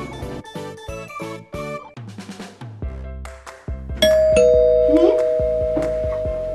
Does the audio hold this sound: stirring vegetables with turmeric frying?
no